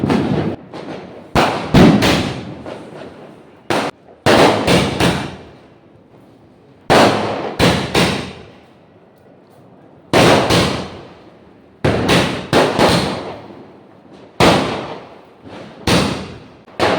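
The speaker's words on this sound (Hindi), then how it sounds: "तो ये रहा स्काई शॉट, आप देखना सारी आतिशबाजी।" Diwali sky shot fireworks burst overhead in sharp, loud cracks, coming in quick clusters of two or three with short quiet gaps between them, repeating steadily for about a dozen blasts.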